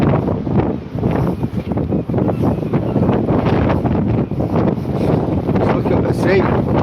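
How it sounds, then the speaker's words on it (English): Strong wind batters a boat at sea, with heavy, continuous gusty rumbling and buffeting against the microphone, loud and close throughout. "It's very windy, Captain."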